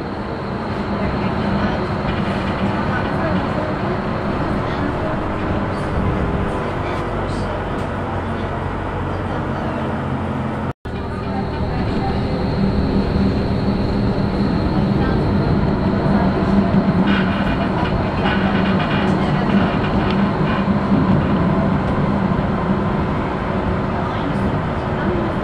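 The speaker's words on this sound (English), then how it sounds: "This tram does not make a very interesting sound." A Berlin tram on route 2, the Prenzlauer line, rolls along with a steady, loud rumble and wheel noise throughout. There is one brief dropout near the middle.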